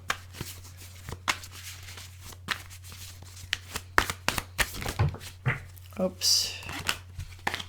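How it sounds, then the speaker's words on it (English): Tarot cards are shuffled by hand in quick, irregular riffles, slaps and flicks, close up, while a person talks over them. "Cards are jumping and flying."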